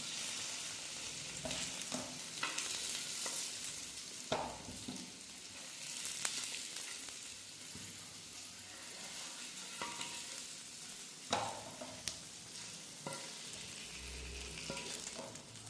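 Fish frying in a pan gives a steady, moderately loud sizzle that runs throughout, with a few sharp spatters and pops standing out, and no voices.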